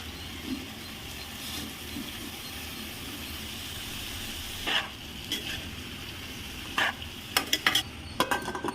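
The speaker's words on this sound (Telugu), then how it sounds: "ఇప్పుడు వంకాయ ముక్కలు వేసుకుందాం." Brinjal and drumstick pieces fry in a pan with a low, steady sizzle, while a spoon scrapes and stirs, the stirring growing busier and sharper toward the end.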